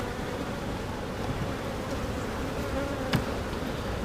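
Honeybees hum around an open beehive frame in a steady, dense buzz that fills the whole stretch. A single bee flies close by near the end.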